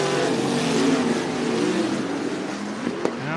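Race cars lapping at Cottage Grove Speedway in Cottage Grove, Oregon, with a loud, continuous engine drone whose pitch shifts as the pack passes nearby.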